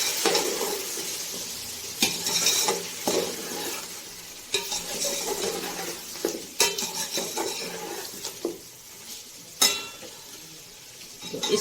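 Garam masala spices being stirred in a pot for Karachi-style chicken biryani, with a soft continuous scraping and several sharp metallic clinks of a spoon against the pot's rim at irregular moments.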